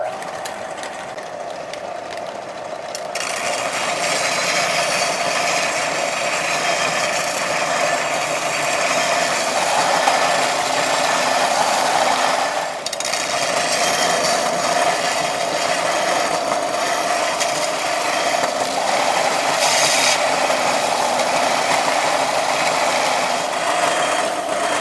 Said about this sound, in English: let's go ahead and get our blade sharpened